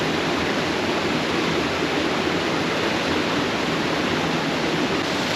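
Waterfall in the Arkansas Grand Canyon, a loud, steady, broadband rush of falling water, continuous and close, with no voices.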